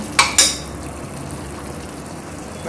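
Vegetables dropped into cooked pav bhaji gravy in a pressure cooker: two quick clattering splashes near the start, then a steady low sizzle-like hiss and faint background noise.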